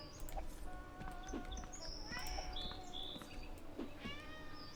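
A cat in the Recycling Center Simulator game gives a few thin, whiny meows among chirping birds and clucking fowl, soft and intermittent over a quiet outdoor background.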